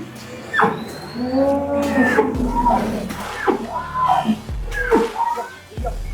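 Several deep, drawn-out moos from large cattle in a pen, loud and close, one after another with short pauses between calls.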